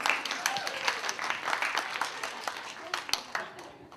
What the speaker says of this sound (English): Yeah, you can clap. Go ahead and clap.